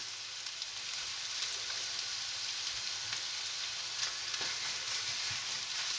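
Minced steak meat for moussaka sizzles steadily in a hot pan while a fork mashes it apart. A close, even frying hiss carries faint scrapes and taps throughout.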